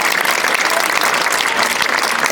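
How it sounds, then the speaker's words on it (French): Steady, dense applause from an audience at a women's Stihl Timbersports competition in Sarrebourg, loud and continuous throughout. "On les applaudit."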